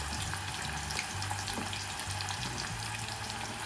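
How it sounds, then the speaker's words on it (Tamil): Mutton sizzles and crackles steadily in hot oil, close by, with a faint low hum underneath and no talking. "போட்டோன்னு சும்மா அந்த மாதிரி பொரியிற சத்தம் உங்களுக்கு கேட்கும்"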